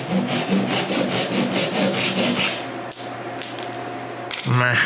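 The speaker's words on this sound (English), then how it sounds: "Then with a caliper, I figure out the length of dowel I need and cut it." Handsaw cutting a wooden dowel to length while repairing a wooden sculpture, with steady back-and-forth rasping strokes for about three seconds, then quieter handling and a short burst of sawing at the end.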